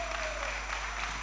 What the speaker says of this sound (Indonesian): Sekali lagi tepuk tangan untuk calon dewan terhormat kita.